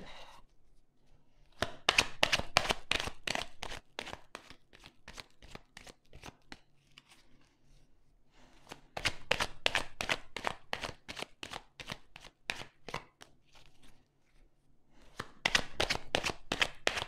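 Tarot cards from a Line of Love deck are shuffled and handled in three long bursts of rapid, crisp riffling taps, separated by quiet pauses, close and fairly loud with no talking.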